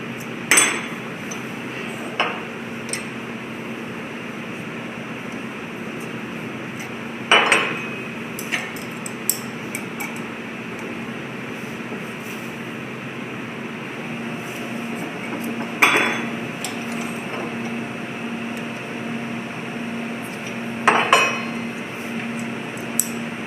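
A hammer strikes sheet metal on an upright bending iron in a few sharp, ringing metallic clanks spaced seconds apart, over a steady low background hum.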